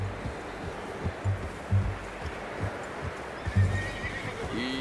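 Horse in the video game Red Dead Redemption 2 whinnying and snorting amid slow clip-clop hoofsteps, moderately close, over a soft outdoor ambience without talking.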